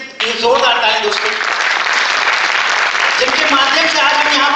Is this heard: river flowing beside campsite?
no